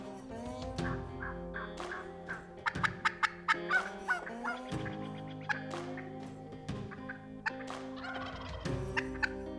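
Wild turkey hens yelp and cluck close by near decoys, a busy overlapping run of calls that grows louder and more rapid partway through, with no talk.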